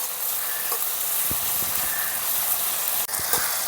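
Potatoes fry in hot oil with a steady, close sizzle and hiss that runs the whole time, plus a few soft stirring knocks and one sharper clack near the end.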